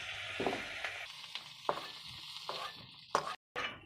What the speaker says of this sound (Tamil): கடைசியில் தான் இந்த பிரண்டையை வதக்குறோம்